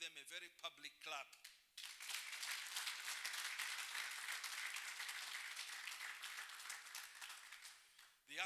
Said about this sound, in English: we can give them a very public clap